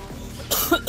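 A single short, sharp human cough, close and fairly loud, with a quiet background beforehand.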